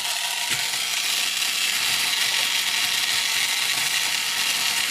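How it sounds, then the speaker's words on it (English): A Bot-X toy robot gives off a steady, loud, high mechanical whirring that runs continuously without pause, close by and with no voices over it. "It's got some sort of whirring noise."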